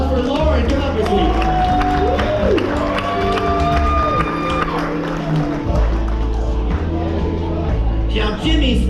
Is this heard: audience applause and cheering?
yes